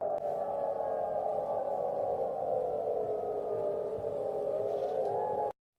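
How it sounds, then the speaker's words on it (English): An air raid siren in Turkey wails as one steady, loud tone with a slight drift in pitch. It sounds alone for about five seconds, then cuts off abruptly. "Let's listen to the sirens."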